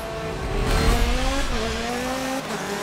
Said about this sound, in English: Now this sounds like a race car.